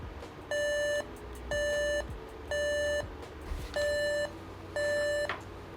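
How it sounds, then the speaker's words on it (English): Five steady, high-pitched POST error beeps from a Dell OptiPlex 3050 motherboard, signalling a memory problem, repeat at an even pace, each about half a second long, with short gaps between them. "So we got a beep."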